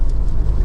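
A Honda Accord 2.4 i-VTEC engine running: a loud, close, low mechanical drone held steady for a brief moment, with no talking.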